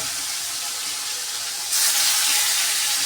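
Hilsa fish fry in a hot pan, a continuous hissing sizzle that swells louder partway through as the pieces settle in the oil, with no voices.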